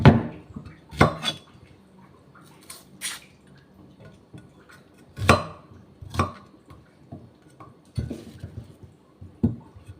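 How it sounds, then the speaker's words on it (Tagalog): A knife chops onion on a board in a home kitchen, giving sharp, separate thuds spaced irregularly about a second apart, close and fairly loud, with faint clatter of dishes in between. "hiwa ako ng sibuyas ilalagay ko dun sa akin niluluto"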